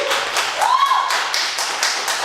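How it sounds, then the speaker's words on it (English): An audience claps by hand in a lecture hall at a community talk night, a loose burst of separate slaps running about two seconds at moderate loudness with no voices over it. "Can I get a hand clap for love lasting forever?"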